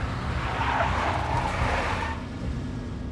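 Tires of a big black Mercedes screech in the Max Payne video game, a loud sustained skid over engine roar that fades slightly toward the end.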